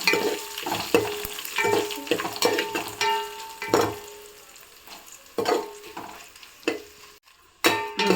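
Dried red chillies frying in hot oil in a home kitchen, giving a steady crackling sizzle with repeated stirring scrapes and clinks of a pan, and no talk.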